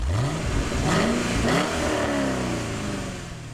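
The supercharged 6.2-liter V8 of a 2011 Cadillac CTS-V Wagon revs up loudly with a rising whine and strong growl, then eases back as the engine note settles, close and without talking.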